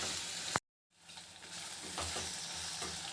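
Onions frying with ginger garlic paste give a quiet, steady sizzle, cut by a brief silent gap, then resume with soft stirring scrapes.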